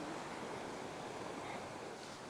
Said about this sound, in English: it tells me that a few waves are washing up here